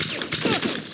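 Rapid gunfire in the James Bond 007 Blood Stone video game, a loud burst of automatic shots rattling close and overlapping for about a second.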